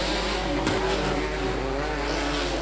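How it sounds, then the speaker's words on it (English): Stock cars race in a regional race, with a steady, loud engine roar from the pack running flat out and a brief surge partway through, with no voices. "Green flag is going and we are racing."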